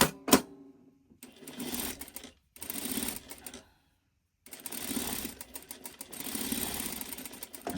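A sewing machine stitches a scrappy quilt block in short bursts: a quick whir, then three runs of steady rapid stitching separated by pauses of silence, close and clear.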